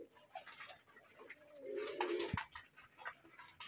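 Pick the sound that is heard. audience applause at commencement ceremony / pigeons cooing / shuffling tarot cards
pigeons cooing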